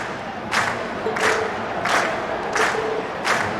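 A concert audience in the video game Trails of Cold Steel cheers in repeated loud swells, about five surges of shouting and applause rising and falling in an even rhythm.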